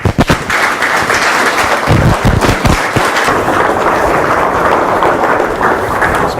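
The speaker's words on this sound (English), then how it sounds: "a round of applause" Audience applause for a guest at a podcast event, a dense sustained clapping from a crowd that starts loud and carries on steadily throughout without talk.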